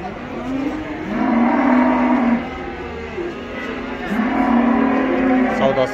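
Heifers about a year and a half old at a cattle market in Taraz give two long, drawn-out lows, close and loud, with a busy market murmur underneath.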